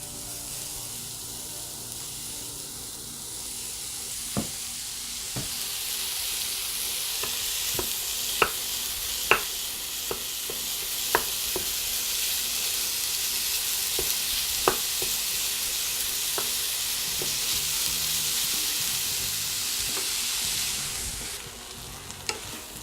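Homemade lean pork chorizo fries in a pan, giving a loud, steady sizzle that swells after a few seconds, punctuated by sharp clicks and scrapes of stirring.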